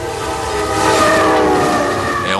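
The Lhasa Express, a long-distance train bound across China toward the Tibetan Plateau, rumbles steadily with rail noise and a sustained horn tone, swelling slightly midway, with a brief rising squeal at the end; no voices.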